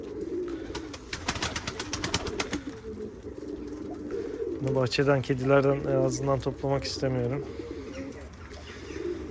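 Pigeons coo repeatedly near and loud in a pigeon loft, rhythmic throaty rolling calls with some wing flaps, while someone talks over them.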